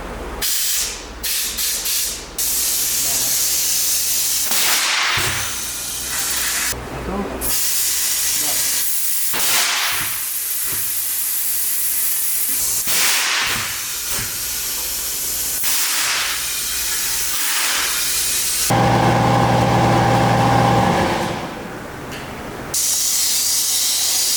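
Loud, steady air hissing from a 20-year-old motorhome tire being inflated with its valve removed, a continuous rushing jet that holds for long stretches, breaks off briefly several times and resumes, close and dominant.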